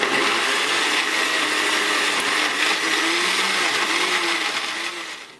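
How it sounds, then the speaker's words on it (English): A blender whirs loudly and continuously, crushing ice cubes with orange juice, its steady roar close and alone before tapering off at the end. "Blend this for about 30 seconds or so."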